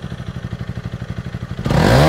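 Stock-exhaust Honda CRF300 Rally ticking over in a steady, close, pulsing idle, then abruptly snapping to a loud full-throttle roar with rising pitch in the final half second.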